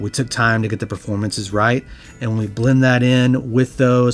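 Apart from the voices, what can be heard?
No distinct noise like a dog, phone or traffic.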